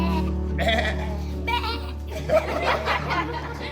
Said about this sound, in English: We have our sheep.